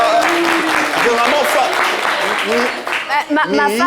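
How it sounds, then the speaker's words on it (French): Audience applause during a lively French-language talk show broadcast, broadband clapping filling the whole stretch with voices talking over it and a brief dip near the end. "On applaudit pour l'encourager."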